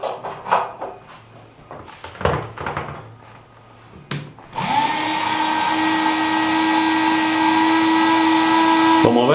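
Cordless drill powered by a microwave oven transformer, a few clunks and handling knocks, then the motor whirs up and runs loud and steady with a constant hum for several seconds before cutting off.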